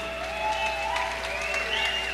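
An audience at a 1974 live concert at the Ritz Theatre in Corpus Christi, Texas, claps steadily at a moderate distance, with a sustained tone humming beneath the scattered hand claps.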